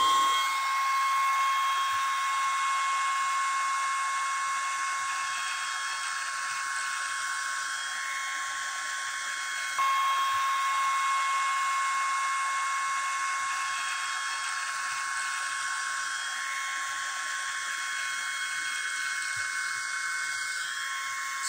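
A vacuum beard hair trimmer runs close and loud as a steady high-pitched electric whine, holding one even motor tone for the whole stretch with a slight shift partway through and no talk over it.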